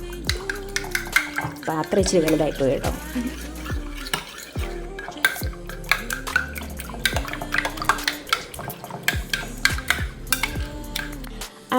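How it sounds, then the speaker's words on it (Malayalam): Milk with chili flakes and salt being whisked in a bowl for a spiced fried bread batter, rapid repeated clinking and sloshing strokes close up, with someone speaking briefly over it. "എല്ലാം കൂടെ ഒന്ന് അടിച്ച് പതപ്പിച്ചെടുക്കാം."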